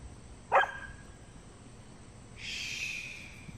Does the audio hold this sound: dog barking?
yes